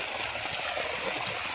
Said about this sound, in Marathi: बघू शकता हा इकडून पाणी येतोय